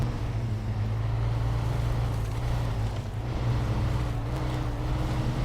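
A truck in SnowRunner grinds up a rocky trail, its engine a steady low drone with faint rattling over the rough ground and no voices.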